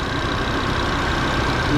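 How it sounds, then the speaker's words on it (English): A 2024 Audi RS3's 2.5-liter engine idles loudly and steadily up close, a constant low rumble with no speech. "It's a little bit loud because the engine's running right now."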